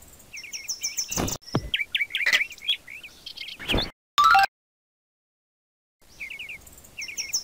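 Dove calling in the Fisher-Price Outdoor Adventures: Ranger Trail video game, a series of repeated high chirping bird notes with short gaps, briefly cut off by silence before the calls resume.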